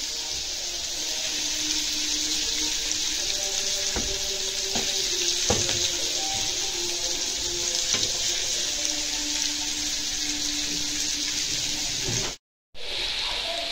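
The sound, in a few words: Alexandrian-style liver frying in a pan on high heat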